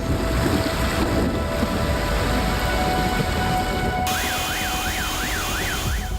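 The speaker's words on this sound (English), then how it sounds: "rains pounded southwestern parts of the country, triggering floods and mudslides" Heavy rain pounds down during flooding and mudslides in southwestern Japan, a dense continuous roar; partway through, a wavering siren rises and falls over the downpour.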